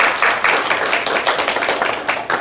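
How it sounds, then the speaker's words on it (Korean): A congregation applauds a small church choir after a powerful hymn, with dense, steady clapping that fills the room throughout and no voices over it. "다시 한번 우리 격려의 박수 보내주십니다"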